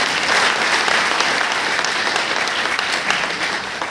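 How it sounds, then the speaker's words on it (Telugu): A loud round of applause for presenters at a business plan presentation, a dense crowd clapping steadily throughout and easing off slightly toward the end. "సంగీత మేడం, తస్లీం మేడంకి ఒక్కసారి గ్రేట్ రౌండ్ ఆఫ్ అప్లాజ్"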